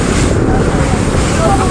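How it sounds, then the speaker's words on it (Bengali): A boat ride on the open sea at night off Khorfakkan in the UAE, with steady, loud wind and water rushing past the microphone, a continuous broadband roar that never lets up. "এই যে আমরা উঠে গেলাম বোটে, এখন বোট রাইডিং করব।"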